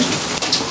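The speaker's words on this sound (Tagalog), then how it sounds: "Tapos yan, inabot pa ng ulan." Steady rain pours onto an unfinished house with no roof yet, a dense continuous hiss of drops on surfaces, close and fairly loud throughout with no talking.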